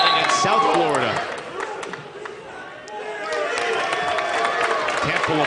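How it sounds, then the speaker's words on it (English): Home crowd at a Temple college basketball game versus East Carolina, a broad wash of applause and chatter filling the arena, dipping briefly midway then swelling again, with a commentator talking over it. "Temple applauding the decision from Schnurr."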